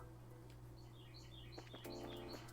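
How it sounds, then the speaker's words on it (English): A loud bird calls in a video game, Trails in the Sky, with repeated high chirps and tweets over a steady low background hum. "Sorry about the really loud bird. It is really loud."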